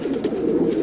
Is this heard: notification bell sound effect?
no